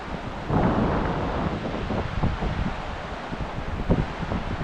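Steady outdoor wind buffeting the microphone, a broad rushing roar with gusty surges throughout, loud and close, with no voices.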